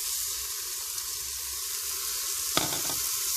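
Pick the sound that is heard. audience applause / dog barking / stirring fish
stirring fish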